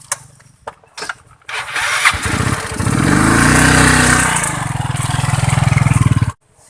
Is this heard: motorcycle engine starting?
yes